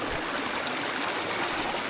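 Nolan Creek flowing through McGinty's Gully in Tasmania, a continuous close rushing and babbling of water, steady and fairly loud with no voices.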